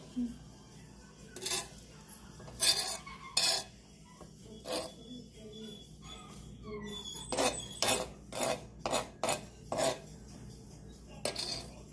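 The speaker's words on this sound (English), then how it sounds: "Now I'm going to add my onion and cilantro." Onion and cilantro tipped into a bowl of pico de gallo with jalapenos already in it, giving a run of sharp clinks and scrapes of utensil against dish, clustered at first and quicker toward the end, close by and with no one talking.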